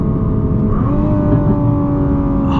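A 2021 Nissan GT-R Premium engine roars loudly and steadily under acceleration, its pitch climbing and then dropping sharply at quick gear shifts before rising again.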